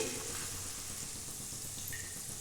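Strands of homemade lachha semai fry in hot oil with a soft, steady sizzle and gentle bubbling throughout, close and fairly quiet.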